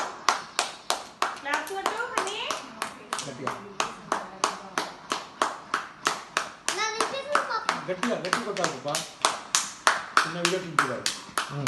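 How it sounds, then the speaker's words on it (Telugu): Families clap in thanks to workers during the Janata curfew, a brisk, steady run of sharp, close hand claps filling the whole stretch, with children's voices chattering faintly underneath. "సమాజ భద్రతలో పాలు పంచుకుంటున్న సిబ్బందికి సంఘీభావం చప్పట్లతో కుటుంబ సభ్యులతో సహా ధన్యవాదాలు తెలిపారు"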